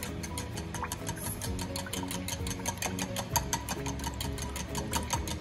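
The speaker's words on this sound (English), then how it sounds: "I'm gonna grab a little fork here so I can kind of whisk that together" A small fork whisks ingredients briskly in a bowl for a chicken broccoli rice casserole, giving steady, rapid clinking taps throughout, close and continuous.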